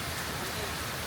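Heavy rainstorm on a farm, a dense steady roar of rain pouring onto surfaces, close and constant, with faint talk underneath.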